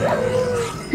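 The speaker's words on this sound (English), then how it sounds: "We will get rid of the aggressive doggies." Hostile wolves in the Minecraft video game growl and yelp in a brief, loud burst of whining dog-like noise, layered under excited gameplay sound.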